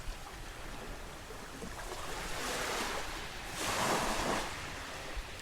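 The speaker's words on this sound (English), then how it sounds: "Right here on this beach" Ocean waves roll and break steadily on a beach in a continuous close wash of surf, swelling louder near the end, with some wind noise and no voices.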